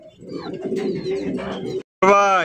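A male fancy pigeon coos loudly and nearby at the end, following a stretch of other birds and a voice.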